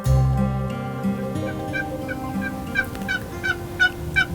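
Wild turkeys gobble repeatedly during a cold-morning turkey hunt, a series of rattling bursts spaced about every half second, fairly distant and clear over a low hum.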